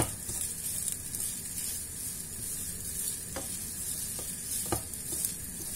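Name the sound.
stirring chicken liver and olive stuffing in a pan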